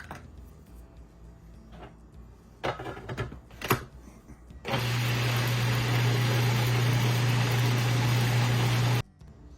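A blender whirs steadily for about four seconds, mixing eggplant with salt and pepper, loud and constant with a low hum, preceded by some handling clatter and ending abruptly.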